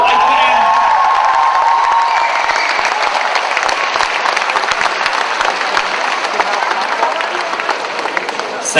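An audience at a Malaysian university debate final applauds loudly and steadily, a dense wash of clapping that lasts throughout with a few cheers at the start.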